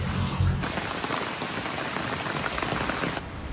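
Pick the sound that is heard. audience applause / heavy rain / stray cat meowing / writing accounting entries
heavy rain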